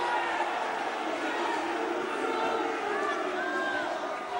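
Boxing crowd at a Commonwealth 130lb title fight, a continuous roar of shouting and chatter filling the arena, with voices rising and falling in the background.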